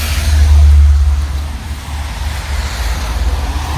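A Mercedes W202 car's engine rumbles low and loud close by, swelling in the first second, then settling into a steady idle-like drone.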